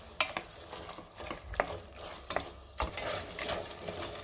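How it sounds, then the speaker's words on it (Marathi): Curd is sautéed with masoor pulav in a pan, with a soft steady sizzle and repeated scraping strokes of a spoon against the pan. The strokes come in an uneven rhythm, close and moderately quiet. "आता आपण पुन्हा एकदा 1 मिनिटभर चांगलं परतून घेऊया"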